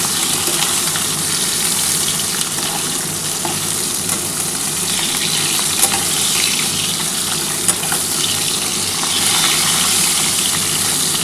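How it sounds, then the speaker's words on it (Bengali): Katla fish pieces frying in hot oil until reddish for a potato fish curry, a loud continuous close sizzle and crackle that holds steady throughout, with nobody speaking. "একটু লাল করেই ভাজছি মাছটা"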